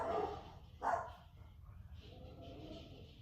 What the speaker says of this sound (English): these dogs can stop barking, because they're not going to stop.